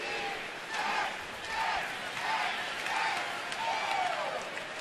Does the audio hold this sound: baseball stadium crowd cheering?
yes